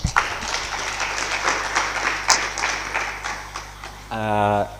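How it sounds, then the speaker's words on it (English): An audience at a hackathon launch event gives a round of applause, a moderate, irregular clatter of hands heard beneath a background hum, ending in a brief voiced sound. "Let's give another round of applause"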